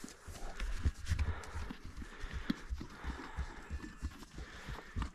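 A horse's hooves clip-clop on hard ground in a rapid, uneven rhythm, close by and moderately loud, with some shuffling and movement around them.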